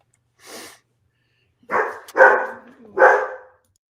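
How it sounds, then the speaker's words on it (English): A dog barks three times, one short distant yip followed after a pause by two louder, closer barks spaced about a second apart, with nothing else around them. "The dog barking is not an answer."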